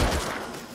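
Gunfire in the video game L.A. Noire, a short loud burst of shots that fades out and then strikes again sharply at the very end.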